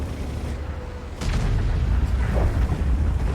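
A heavy tank cannon blast in a video game, from the Czechoslovak TNH 105/1000 heavy tank, booms once, followed by a rumbling second report and lingering low roar, loud and close with no talking.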